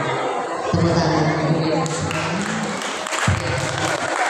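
Audience applause fills a parenting seminar hall, a dense, steady wash of clapping lasting several seconds, with a low voice or music running underneath.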